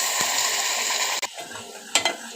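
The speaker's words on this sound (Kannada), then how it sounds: "ಇವಾಗ ನೋಡಿ ಈರುಳ್ಳಿ ಫ್ರೈ ಆಗಿದೆ ಇವಾಗ ರುಬ್ಬಿರೋ ಮಸಾಲೆ ಹಾಕ್ತೀನಿ" Ground masala paste frying with onions in a pan, a steady close sizzle throughout with a couple of brief stirring scrapes and clinks.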